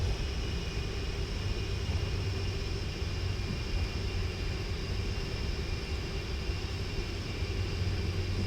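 A PMDG 747 airliner taxiing in the P3D flight simulator, giving a steady, even engine drone with a constant whine layered over low rumble, unchanging throughout.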